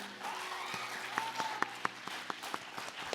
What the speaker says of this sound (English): a big round of applause for her Guru Kalai